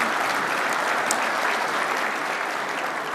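Guests at the 2026 MCA Information Awards Dinner applaud the sponsors, a broad, sustained wash of clapping from a large room that holds evenly for about three seconds.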